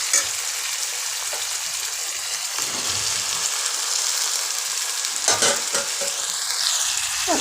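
Mixed vegetables for a milk vegetable pulao sautéing in oil with masala, a soft continuous sizzle with occasional stirring and a few sharper crackles, moderately quiet and alone.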